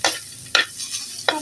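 Garlic and onion sautéing in a pan before corned beef goes in, with three short bursts of scraping stir strokes over a faint steady sizzle, close and brief.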